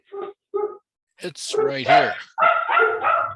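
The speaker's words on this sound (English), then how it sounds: "that dog actually knew the answer, and that's what I just heard" A dog barks near the microphone, two short barks followed by a longer run of louder barks and yips mixed with a person talking over them.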